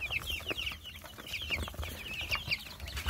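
Brahma hens and growing chicks cluck and peep in a coop, with high chick cheeps repeating over low, soft hen clucks, close and continuous without any talk.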